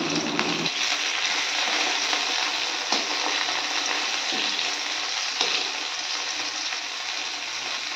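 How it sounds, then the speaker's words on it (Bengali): Bata fish frying in a pan for a spicy fish curry, giving a loud, steady sizzle that runs unbroken throughout with faint stirring scrapes and no voices. "ওই যে বাটা মাছটা ভেজে ঝাল করে নিচ্ছি।"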